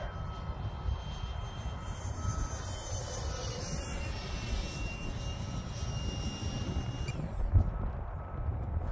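A Freewing MiG-15 RC jet with a 64mm electric ducted fan flies a fast pass overhead outdoors. Its whooshing whine rises and falls against wind noise, with a brief thump near the end.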